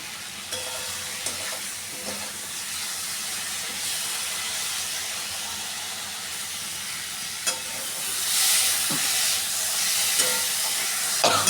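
Spice paste of coriander and turmeric powder frying in a pan for a fish curry, a steady sizzling hiss with occasional stirring scrapes and a louder burst of sizzle near the end, no voices.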